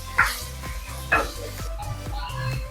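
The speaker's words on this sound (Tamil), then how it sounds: "இப்போது இந்த ஆனியன் நல்லா வதங்கணும்." Small chopped onions sautéing in a pan for aloo poha, a low sizzle broken by two sharp scraping stirs near the start, with a soft rhythmic low hum underneath.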